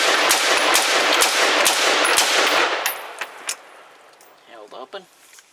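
Armalite AR-10 rifle fired in a rapid string of loud, close shots with metallic clangs over roughly three seconds, then a few scattered clanks and a person talking as it falls quiet.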